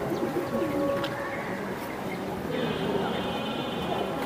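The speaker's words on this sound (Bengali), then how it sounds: "এইটা হচ্ছে তোতা মাদি কবুতর" Tota-line female pigeon, an old-line Sabchila-style hen, cooing amid steady bird chatter, with a faint chirp-like tone and a voice talking in the background.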